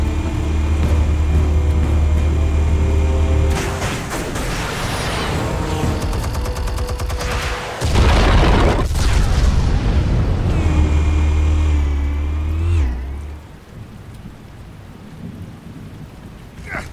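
Explosives detonate in the Batman Telltale Series video game: loud, sustained rumbling blasts with a sharp burst near the middle, heavy low roar lasting most of the clip, with a musical score underneath before it fades out.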